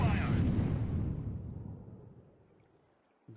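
A Molotov bursting into fire in Counter-Strike 2 opens with a loud roaring whoosh that fades steadily over a few seconds and ends with a small thud.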